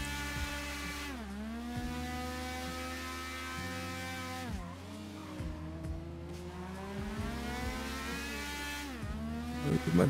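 A motorbike engine drones steadily while riding in the GTA RP video game, its pitch dipping and climbing again several times as if shifting or easing off, loud and close with no talk.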